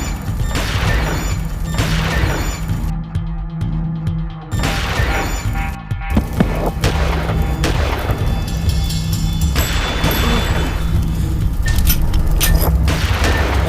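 A series of heavy booms and crashes, like a bomb going off amid gunfire, comes loud and close, overlapping in dense bursts with a couple of brief quiet gaps.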